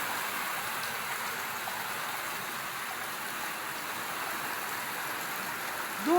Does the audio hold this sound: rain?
yes